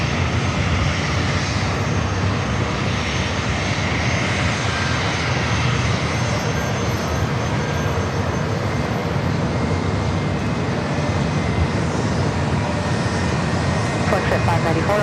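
A jet airliner takes off from a runway at San Diego airport, its engines a loud, steady roar throughout, with radio voices faintly present.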